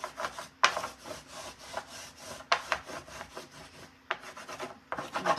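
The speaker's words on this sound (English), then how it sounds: "But I'm going to take my wax and just rub it." Wax is rubbed back and forth over a painted stenciled craft piece, a close, dry scraping rasp in repeated strokes with brief sharp scuffs, no speech.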